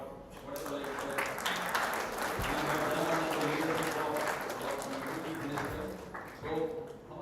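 An audience at a summit on the future applauds, a dense, steady wash of hand claps lasting throughout, with a voice or two faintly heard beneath the clapping.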